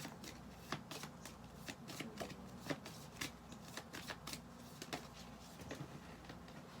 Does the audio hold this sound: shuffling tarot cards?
yes